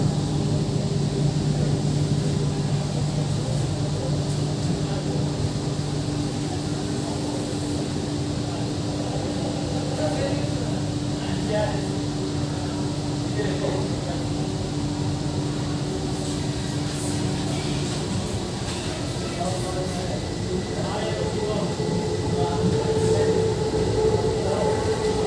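Steady rumble and hum of a Kolkata East-West Metro train running between Sealdah and Sector V, a constant loud interior drone with a tonal whine and faint rail clatter throughout, no voices.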